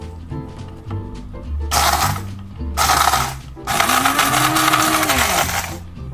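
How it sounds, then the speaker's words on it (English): A coffee grinder kept for spices whirs through cumin seeds and ancho chile pieces in three loud, harsh bursts, rattling with seeds, the last burst longest, separated by brief quieter pauses. "you're gonna throw the cumin seeds and the ancho pieces into that grinder."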